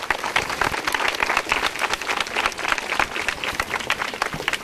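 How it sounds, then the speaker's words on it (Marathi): A school audience claps for a correct answer in a quiz on Maratha history, giving loud, sustained, crisp applause from many hands with no talking over it. "जोरदार टाळ्या त्यांच्यासाठी."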